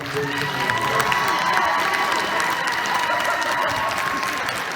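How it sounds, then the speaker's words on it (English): A crowd applauds steadily, with dense clapping and a few scattered cheers, loud and continuous from start to finish. "let's give a big round of applause to the seniors"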